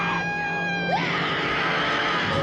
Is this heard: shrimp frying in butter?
no